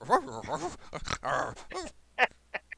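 A voice imitates a creature speaking in dog-like barks, growls and snarls during a tabletop role-playing game, a close run of rough guttural bursts followed by short, sharp yips.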